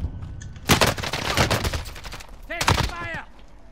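Rapid bursts of automatic gunfire in the Warzone video game, loud and close, with a short gap and then more shots mixed with game sounds.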